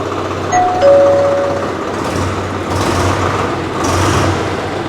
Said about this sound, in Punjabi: ਆ ਦੇਖੋ ਟਰੈਕਟਰ ਦੀ ਆਵਾਜ਼